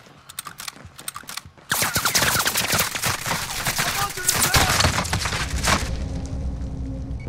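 Gunfire in Call of Duty: Modern Warfare, a burst of sharp, rapid shots crackling loudly and densely for several seconds, dropping off near the end, with lighter clicks and movement noise before it starts.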